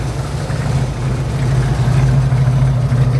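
A car with an automatic transmission runs with a steady, moderately loud engine hum and low drone throughout, with no talk over it.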